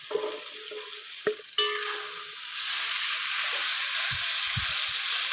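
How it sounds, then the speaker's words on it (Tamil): Maggi noodles tossed with fried onion in a heavy-bottomed pan, starting with a few clanks and scrapes before a steady sizzle and hiss of frying takes over, close up and with no voices. "நல்லா அந்த ஆனியனோடு சேர்ந்து நல்லா மிங்கிள் ஆகிற மாதிரி நல்லா கலந்து விட்டுடலாம்"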